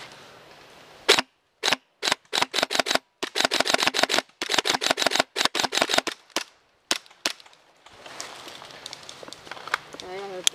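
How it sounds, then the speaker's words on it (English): Guns fire in a push game, a rapid run of sharp, close cracks coming singly and in quick clusters, then a scattered crackle of distant shots while voices call out in the background. "We're gonna start shooting."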